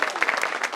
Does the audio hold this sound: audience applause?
yes